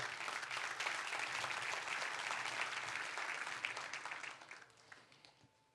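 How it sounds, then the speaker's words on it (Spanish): A church congregation applauds during a sermon, sustained clapping that fills the space and then fades away toward the end. "Denle un aplauso a Dios por eso."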